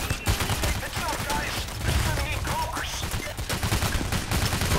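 Rapid bursts of video game gunfire during a night robbery mission, dense repeated shots crackling close and loud throughout, with occasional voices underneath.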